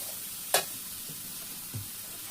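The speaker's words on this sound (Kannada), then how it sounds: "ಈ ಥರ ಆಯಿಲಲ್ಲಿ ಹಸಿ ವಾಸನೆ ಆಗೋದು ಸ್ವಲ್ಪ ಫ್ರೈ ಮಾಡ್ಕೋಬೇಕು" Ground masala for sambar fries in oil: a quiet, soft sizzle runs under one sharp scrape of a spoon and a faint later clack as it is stirred.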